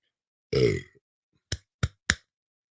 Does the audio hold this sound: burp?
yes